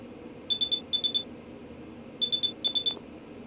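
A phone message alert from Persona 4: two separate bursts of quick, bright, high-pitched electronic beeps, each burst made of two rapid triplets, clear and close against a quiet background.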